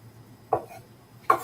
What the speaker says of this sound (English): And I'm going to just keep chopping this